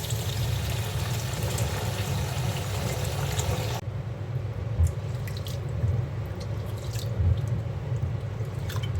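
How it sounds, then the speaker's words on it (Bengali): Rice being rinsed under a running kitchen tap for khichuri, with a steady wash of flowing water and intermittent drips and splashes in a sink, close and continuous throughout. "এখন আমি চালটা ধুয়ে নিচ্ছি।"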